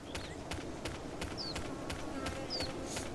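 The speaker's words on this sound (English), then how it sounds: "I did apply the footsteps too." Footstep effects in an Unreal Engine 5 desert oasis scene with gothic architecture, a steady run of evenly spaced soft thuds over a constant ambient bed, with occasional faint bird-like chirps.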